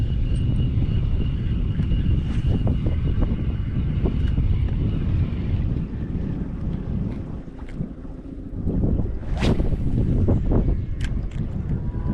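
Strong wind buffets the microphone outdoors on a fishing trip by the water, a loud, rumbling, gusty roar that eases briefly in the middle before picking up again, with faint splashes and clicks and no talk.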